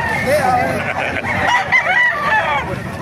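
Roosters at a poultry yard in Calumpit, Bulacan, some red birds among them, crow and cluck loudly and close, the calls overlapping in a dense, busy mix of fowl sounds.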